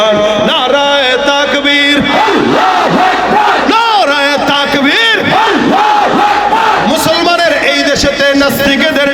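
A crowd at a religious rally chants slogans in unison, with loud, continuous voices moving in a rhythmic, melodic cadence throughout.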